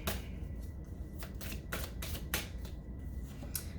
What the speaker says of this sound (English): So let's just pull a few cards here.